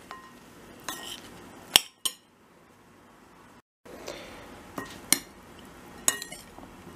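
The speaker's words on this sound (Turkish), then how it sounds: "Şöyle karıştırıyoruz arkadaşlar" A spoon stirs melted butter and cheese into hot corn bread, giving a few scattered metallic clinks and scrapes against the dish, fairly quiet, with soft pauses and no talk.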